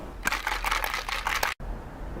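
A cocktail shaker holding a brandy, lemon juice and sugar syrup mix is shaken hard, giving a rapid run of close, bright rattling bursts that stop abruptly after about a second and a half.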